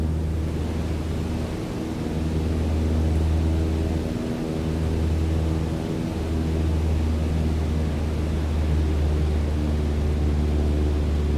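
Steady droning propeller airplane engine in Microsoft Flight Simulator 2020, throttled back to a cruise setting of about 2,300 RPM, holding a continuous low hum with slight dips in pitch and no talking.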